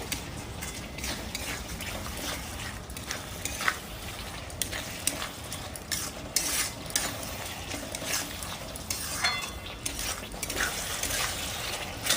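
Ginger, garlic and green chili masala frying in a pan, a continuous close sizzle broken by frequent scraping and clinking stirs at an uneven rhythm.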